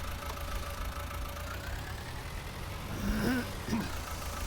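Tractor engine idling steadily in Farming Simulator 19, a continuous low drone with a faint whine and a brief rising tone near the end.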